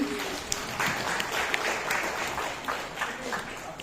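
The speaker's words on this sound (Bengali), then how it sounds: "সবাই মিলে একটু জোরে হাততালি।" An audience at a poetry festival in Kolkata claps together in steady, dense applause that holds at an even level for a few seconds.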